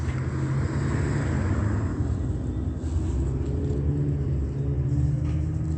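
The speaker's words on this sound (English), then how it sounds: "Crown lift trucks crossing path." Crown lift trucks driving past, a steady low engine rumble with broad road-like noise that holds at an even, fairly loud level throughout, with no voices.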